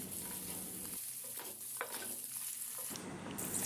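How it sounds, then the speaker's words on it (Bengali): Pointed gourd being stirred and fried with spices for doi potol, giving a steady close sizzle with soft scraping strokes throughout and a brief louder stir near the end, with no voices. "নেড়ে ছেড়ে মশলাগুলো পটলের গায়ে আমি লাগিয়ে দিচ্ছি এইভাবে বেশ খানিক্ষণ রান্না করে নিলাম"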